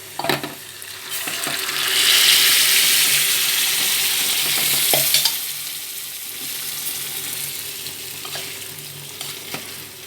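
Spiced oil tempering for Andhra-style tomato dal sizzles steadily in a pan while being stirred. The hiss swells loudly for a few seconds, then settles to a quieter crackle with occasional spoon scrapes.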